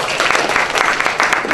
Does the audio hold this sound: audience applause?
yes